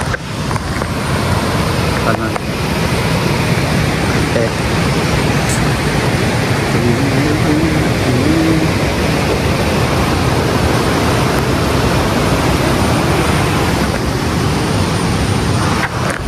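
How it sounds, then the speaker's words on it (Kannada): A river rushes near Bhimanakatte in Thirthahalli, Karnataka, making a loud, steady broadband roar that fills the whole stretch, with a faint voice briefly audible underneath. "ನೀರು ನೋಡಿ ಅಲ್ಲಿ ನೀರು ಹರಿತಿದೆ ಅಂತ"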